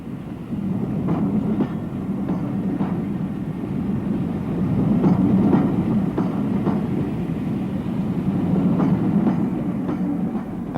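An E1 steam locomotive pulls a special train away on the Kent and East Sussex Railway, a steady rumble of wheels with rhythmic clickety-clack over rail joints, moderately distant and continuous.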